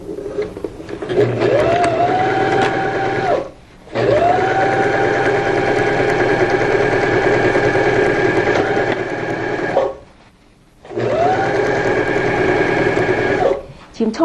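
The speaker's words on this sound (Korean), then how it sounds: "위판부터 먼저 박음질을 시작해 보겠습니다" A sewing machine stitches the top panel of a double-frill pillow, running in long steady bursts with a high mechanical whir, pausing briefly twice between runs, loud and close.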